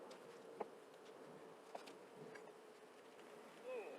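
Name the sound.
honey bees buzzing at a hive during inspection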